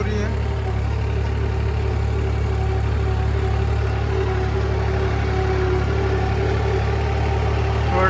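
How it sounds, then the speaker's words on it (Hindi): A tractor engine runs steadily in a farm field during harrow and cultivator work for maize sowing in Madhya Pradesh, a continuous close drone with no break. "और ट्रैक्टर भी परफॉर्मेंस अच्छी दे रहा है।"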